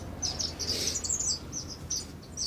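Small finches and waxbills chirp in a garden aviary among grasses, herbs and dead broom, a busy overlapping chatter of high, thin tweets at moderate distance with no talk.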